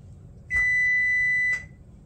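Kitchen oven chiming once it has finished preheating and is ready to bake cookies: a single steady electronic beep held for about a second, clear and alone over a quiet room hum.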